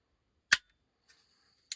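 Trigger pull of an airsoft Glock 19 pistol with a sharpened, very light trigger: a sharp close click, a faint tick, then another crisp click, each isolated in silence.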